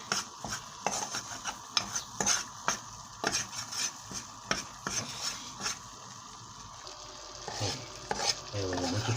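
Fenugreek seeds roasting in a dry pan and stirred briskly, a close, rhythmic scraping and rattling of the tiny seeds against metal over a constant sizzle, with no talking.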